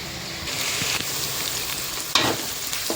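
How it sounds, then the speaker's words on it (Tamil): Onions sautéing in a pan for a home-cooked fish curry made with sankara fish, a steady close sizzle with soft stirring scrapes and one sharper clatter of the spoon against the pan near the end. "இப்போ நல்லா வதங்கட்டும் ஆனியன்"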